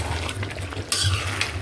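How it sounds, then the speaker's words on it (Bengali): Onions being sautéed and stirred in a pan, heard as a steady low cooking hum with a louder burst of scraping and sizzling stirring partway through. "এইরকম কষাচ্ছি, পেঁয়াজ গলেই গেছে"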